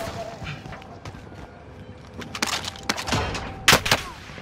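Gunfire in an online multiplayer shooter, a scattering of sharp shots and bursts that grows denser toward the end, heard close over faint background game noise.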